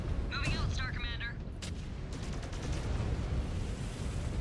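Mech weapons focus-fire in MechWarrior 5 Clans as a sustained, dense barrage of booming, rumbling shots under constant heavy battle noise. A short whistling, warbling tone sounds early on, and radio-style speech may come in faintly.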